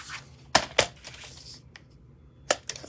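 A paper trimmer slices through card pieces for a bridge fun-fold card, with a couple of sharp close clacks followed by lighter blade slides and a final pair of snappy cuts, and no voices.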